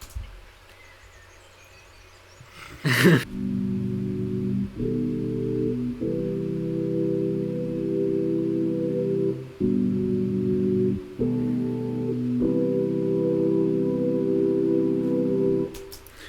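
Sustained synth chords in a kawaii-style music production, held blocks of sound that change every second or two with brief gaps, loud and alone after a short quiet lead-in.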